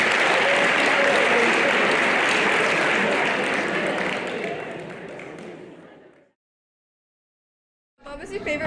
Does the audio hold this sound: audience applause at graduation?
yes